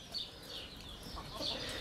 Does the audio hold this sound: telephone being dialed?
no